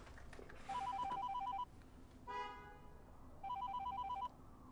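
A telephone rings in two bursts of rapid electronic trilling separated by a pause, moderately close with a quiet background and a brief tonal blip between the rings.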